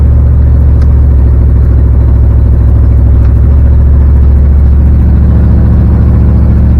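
A car cruises along a road on the way home after a fan belt problem, heard as a loud, steady, close engine drone and low rumble with no break.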